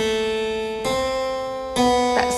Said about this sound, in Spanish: Es el nombre de Bach en el teclado.